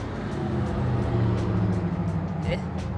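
Continuous traffic rumble on a busy street in Copenhagen with cars passing close by, steady and loud throughout.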